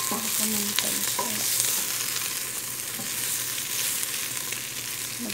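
Chicken for maqluba sizzles and fries in a pot while being stirred, with a steady crackling hiss and occasional scraping clinks of the utensil against the pot.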